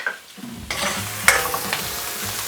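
Leftover Christmas turkey and Brussels sprouts stir-fried in a pan for a Chinese-style curry dish, sizzling loudly and continuously with scraping stirs and a sharp clatter partway through, no talking.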